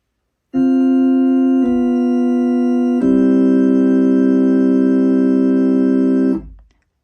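A pipe organ, swell coupled to great with only an 8-foot stop, holds a sustained chord that steps to new chords twice, rich and steady, before cutting off and fading into room echo.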